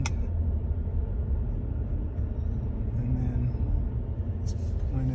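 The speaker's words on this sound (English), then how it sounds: "So shifting it down to second." A 2022 Ford F-350 Tremor pickup climbs a mountain road and downshifts into second, giving a steady low engine rumble throughout with a voice talking over it.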